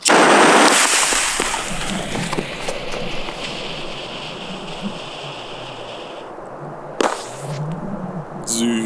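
A small F1 firecracker goes off outdoors in snow, a sharp bang at the start followed by a long fading hiss and crackle, with a second brief pop near the end.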